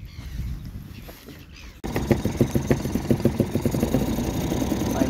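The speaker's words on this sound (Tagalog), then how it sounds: "Maya maya papandarin ko yung makina ko doon." A fishing boat engine starts abruptly after a quiet stretch of water and wind, then settles into a steady, rhythmic idle that chugs evenly and close by, with no talk.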